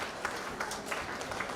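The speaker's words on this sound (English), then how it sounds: "So give a big applause to her." Moderately quiet applause from a conference audience, an even wash of many hands clapping continuously throughout with no voices on top.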